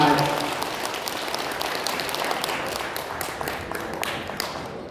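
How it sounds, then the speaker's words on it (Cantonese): Applause from an audience at a Cantonese opera variety concert, thanking two drummers after a Shanxi drum performance. Loud clapping opens the clip and then continues as a thinner patter with some sharper individual claps, fading toward the end. "麻煩大家俾多啲掌聲你兩位多謝晒"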